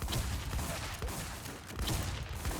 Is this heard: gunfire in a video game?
yes